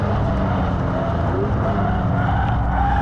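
A 2018 Porsche 718 Boxster GTS with its turbocharged flat-four, driven hard in Sport Plus with the PDK gearbox, drones in a loud, steady engine roar heard from inside the cabin, pitch shifting slightly through the stretch without a clear gear-change break.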